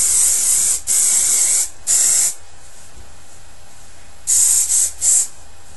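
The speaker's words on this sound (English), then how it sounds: "So either with hairspray or maybe with mousse or something, you want to get that in there to separate up the curls" Hairspray spritzed onto short curly hair in several hissing bursts: two longer sprays, a third, then a pause and three quicker puffs, close and loud with quiet gaps between.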